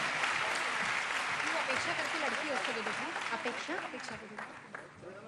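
Loud applause at a Madhya Pradesh government ceremony for the Ladli Laxmi scheme, a large crowd clapping steadily alongside speech, the clapping thinning toward the end.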